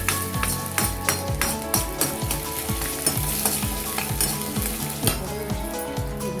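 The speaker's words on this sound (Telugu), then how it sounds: "ముందు ఒక బాణీ పెట్టుకుని దాంట్లో పోపు చూసారుగా, కొంచెం ఇంగువ చెప్పానుగా ఇందాక, శనగపప్పు 1 టేబుల్ స్పూన్, మినపప్పు, ఆవాలు, జీలకర్ర ఇవి బాగా వేసుకోవాలి." Chana dal, urad dal, mustard seeds and cumin hit hot oil for a tempering with asafoetida, making a loud, close, crackling sizzle punctuated by rhythmic scraping strokes of a spoon against the pan.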